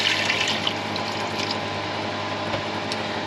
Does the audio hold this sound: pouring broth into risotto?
yes